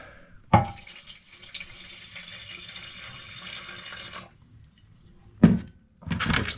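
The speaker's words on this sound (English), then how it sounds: "I'm just gonna fill it a little more with some good used gasoline." Used gasoline is poured into a rusty tank holding bolts and brake cleaner, making a steady splashing trickle for several seconds, followed by a pause and then a couple of loud knocks and rattles.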